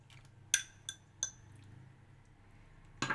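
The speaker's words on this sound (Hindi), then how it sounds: "अब इस चिकन को बहुत अच्छी तरीके से मिक्स कर लेंगे इसमें।" Chicken cubes tossed into a pasta mixture with utensils: a few sharp metallic clinks spaced apart, then another clink at the end, over a quiet, faint background.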